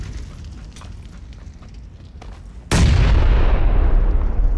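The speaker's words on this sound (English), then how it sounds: "threw a grenade, Ghost. Watch out." A grenade goes off in a first-person shooter game: a sudden loud, close blast that cuts through faint background gunfire and rumbles on as a heavy, slowly fading roar, with no voices.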